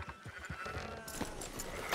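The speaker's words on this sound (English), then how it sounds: "Fine sheep." Sheep bleat in the video game Red Dead Redemption 2, a wavering call over a busy background of shuffling and ambient noise, fairly close and lasting a couple of seconds.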